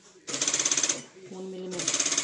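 Sewing machine stitching a seam on a garment neckline lining, two close bursts of rapid rhythmic needle clatter with a brief pause between them and a faint hum.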